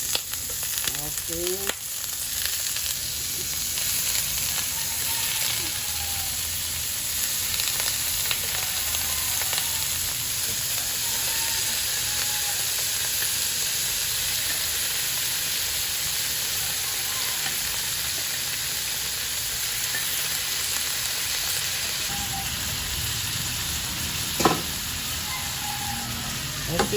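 Meat for humba sizzles steadily in a pan, a constant close frying hiss that lasts throughout with occasional stirring clicks, and a voice briefly speaks over it.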